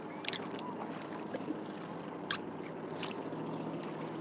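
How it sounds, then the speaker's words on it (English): A continuous broad wash of speedboat noise and churning water, with a few brief splashes on top; fairly loud and close, no talking. "can you hear how loud those boats are?"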